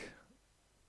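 A single short cough bursts out close to the mic, then fades into quiet room tone.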